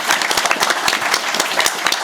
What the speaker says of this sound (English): Round of applause for that young man,